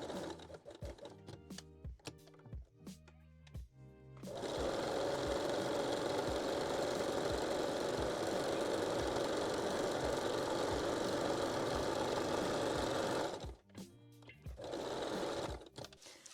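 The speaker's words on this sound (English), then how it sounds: "So I will stitch it with long straight stitch now." A sewing machine runs a long straight stitch on a wire-free bralette, first in short stop-start bursts, then in a long steady whirring run, then a few more brief bursts, close up with no talking.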